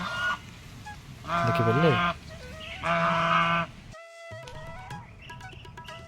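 Ducks honking and quacking at a pond in a park, heard as a few loud, close bursts of nasal calls with short gaps between them, while a person talks softly in the background.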